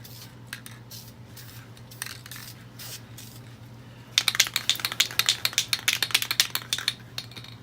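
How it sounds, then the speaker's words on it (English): Rapid bursts of aerosol spray primer hiss against a miniature in a basement, short repeated puffs coming quick and close over a low steady hum. "I am spray priming in a basement as it is cold outside without a vent hood."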